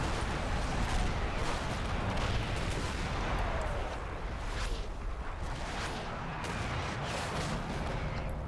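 Mortars fire in the war video game Combat Mission, set in the Normandy hedgerows: a dense, continuous rumble of repeated booming blasts with no pauses.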